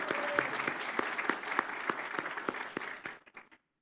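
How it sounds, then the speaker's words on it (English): A church congregation applauds, with a dense bed of clapping and regular sharp claps near the microphone, which then fade out over the final second into silence. "Let's give a little round of applause here first here."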